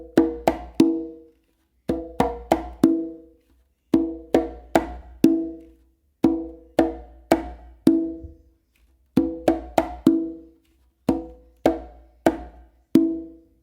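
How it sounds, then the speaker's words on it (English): Conga tumbao pattern, close slaps alternating with ringing open tones, struck in crisp clustered groups of three or four hits with short gaps, played close and alone. "After doing that close slap with your dominant hand, you're immediately going to do an open with your dominant hand on the conga."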